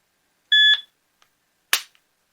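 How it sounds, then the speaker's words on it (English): A shooting shot timer for dry fire practice gives one short, sharp electronic beep, then after a pause a brief crisp click-like burst, both clear against silence. "which is just an end beep telling you should have finished whatever you were doing."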